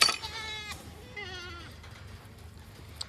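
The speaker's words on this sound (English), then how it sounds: "we have Mama Goat and her kids up here eating" Goats on a homestead, a mother goat with her kids, bleat at feeding time: a loud nearby bleat, then a longer wavering one, with background farmyard noise and a sharp clatter at the start.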